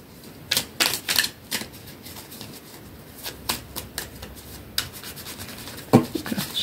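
Oracle cards being shuffled by hand, a run of crisp riffling bursts and soft rubbing strokes spread across the clip, close and fairly quiet, with no talking.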